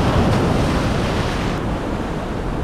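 Ocean waves surge against a shore in stormy weather, a steady broadband roar of surf with wind buffeting the microphone throughout, loud and close, with no voices.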